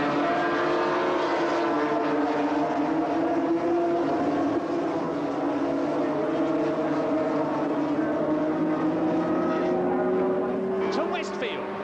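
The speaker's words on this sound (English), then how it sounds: "They come out of Druids Bend, it's Baker leading Mick Grant, Yamaha leading Kawasaki" Yamaha and Kawasaki racing motorcycles scream out of Druids Bend at a circuit, engine notes rising and shifting as the bikes pass in a loud continuous roar, with no voice audible over them.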